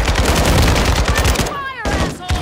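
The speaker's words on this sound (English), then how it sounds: "Taking fire! Threats in the area!" Rapid automatic gunfire in Call of Duty Warzone 2 DMZ on PS5, loud close bursts of shots that break off partway, followed by electronic game tones and a final shot.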